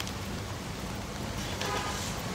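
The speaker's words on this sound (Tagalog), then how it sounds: "Kaya ang ulan." Rain falls at a self-service gas station as a steady, fairly loud patter with a low rumble beneath, and a brief brighter splash or hiss comes near the end. No one speaks.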